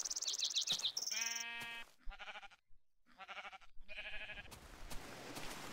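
Sheep in the Minecraft Tekkit game let out several short, close bleats in quick succession, after a burst of high chirping tones, with steady background game noise.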